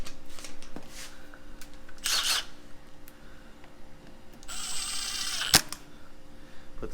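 Plastic lockout blocks dropped into the handle slots of a Milwaukee Packout rolling tool box: two short bursts of plastic clattering and scraping, then a sharp click, each standing alone in a quiet room.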